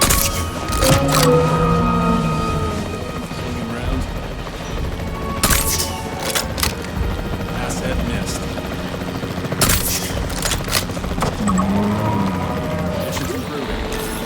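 Tranquilizer gun shots fired from a capture team helicopter in Jurassic World Evolution 3: several sharp cracking bursts over a constant rotor drone, with a voice speaking in parts of the clip.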